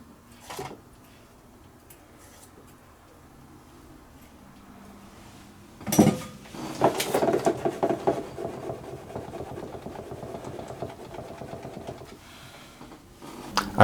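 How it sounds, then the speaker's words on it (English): A baking pan of brownie batter is shaken on a counter, producing a rapid rattling, scraping rumble of metal that runs for several seconds after a sharp knock. "I'm going to just give the pan a little shake, which will help to level it off."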